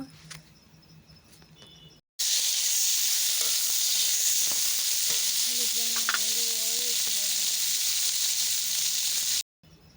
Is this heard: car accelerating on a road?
no